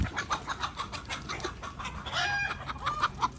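Chickens in a backyard flock cluck and squawk in a busy run of short calls, close and lively, with one rising call near the end and no one speaking.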